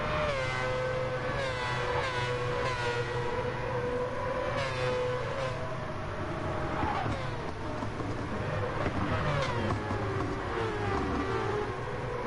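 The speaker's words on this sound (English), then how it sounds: "you just gotta love the sound of that car" Race car engine in a sim racing game, from a one-make racing series, runs continuously and loudly, its pitch rising and falling through gear changes with some talking faintly underneath.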